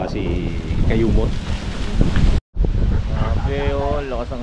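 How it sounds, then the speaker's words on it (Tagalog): Strong, cold wind buffets the microphone with a constant roaring rumble, and people talk loudly over it throughout, apart from one brief dropout partway through. "Grabe oh, lakas ang hangin."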